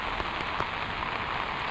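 Heavy rain pours down steadily by a park, a dense, even hiss of drops striking surfaces with a few sharper patters, constant and close, with no voices.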